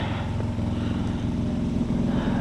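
A Briggs and Stratton 900 series generator engine revs continuously up close, a loud, rough, steady mechanical drone with a pulsing exhaust rhythm that holds throughout.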